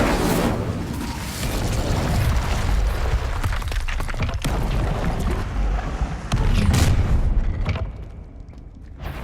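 Incendio fire spell cast in the video game Hogwarts Legacy: a loud, sustained roaring blast of fire with booming low rumble and crackling bursts that surges again near the end before thinning out.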